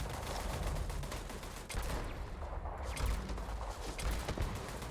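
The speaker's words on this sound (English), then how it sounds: "that's a turret" An automated turret in the video game Starfield fires rapid bursts of gunfire, with sharp repeated shots and mechanical clatter running through the whole stretch at a moderate, somewhat distant level.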